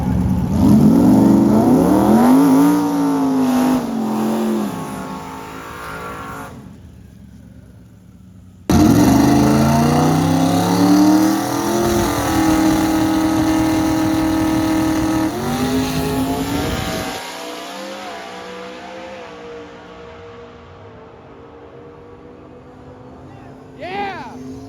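Drag race car from a Drag and Drive event making passes down the strip, loud revving engine roars rising in pitch, cutting out abruptly, then another hard run fading into the distance, with people talking over it.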